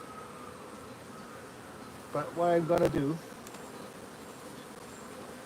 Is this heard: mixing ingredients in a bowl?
no